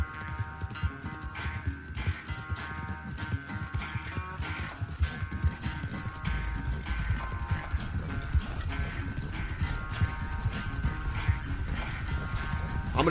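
A horse gallops in Red Dead Redemption 2, hooves pounding in fast continuous rhythm with jangling tack, loud and close over low game ambience.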